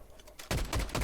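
A burst of rapid gunshots in Fortnite erupts suddenly after a quiet moment and continues as loud, closely spaced cracks until the end.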